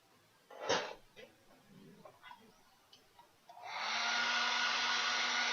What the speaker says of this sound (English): I'm just going to get the hair drying on that again for a second.